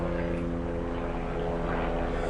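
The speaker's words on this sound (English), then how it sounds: "It's an aluminium helicopter." A steady, loud rotor-and-engine drone from a helicopter passing overhead fills the scene with a constant, pulsing hum and no talk.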